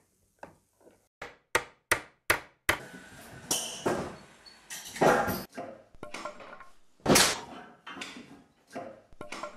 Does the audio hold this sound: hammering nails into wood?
yes